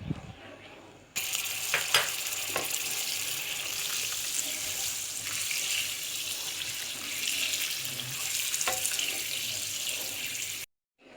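Butter hitting hot caramelized sugar in a pan for a sesame and pistachio brittle gives a steady, close sizzling hiss that starts abruptly about a second in and runs evenly with faint scattered crackles, with no talk.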